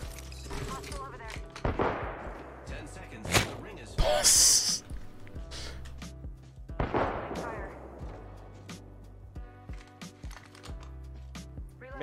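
Weapon fire in the Apex Legends video game comes in several sharp bursts of shots, with heavy blasts near the middle and loud single reports, separated by quieter stretches of game ambience.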